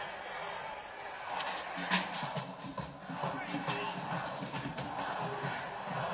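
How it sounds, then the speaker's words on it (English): Stadium crowd at the 1971 Grey Cup football game, a steady distant roar of many voices with swelling murmurs and scattered shouts, no clear speech. "And listen to that crowd."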